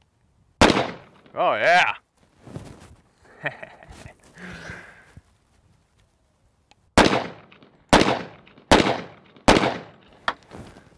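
Double-barrel 1911 pistol, an AF2011A1 firing two rounds at once, cracks out five sharp, loud reports, each a heavy single blast with a short ringing tail, spaced roughly a second apart; someone speaks briefly between earlier noises.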